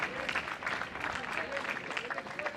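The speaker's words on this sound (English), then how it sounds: "She got the oohs and ahs from the crowd on that one." Crowd at a women's professional padel match in Miami reacting with oohs and applause after a no-look block, a dense, steady wash of clapping and voices throughout.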